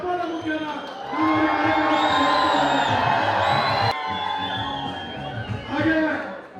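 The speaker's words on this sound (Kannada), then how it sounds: "ಜೋರದ ಚಪ್ಪಾಳೆ ಮುಖೇನ" Crowd noise rises at a temple inauguration attended by Karnataka's chief minister, with cheering and whooping over a loud, dense audience din while an announcer speaks on a PA throughout.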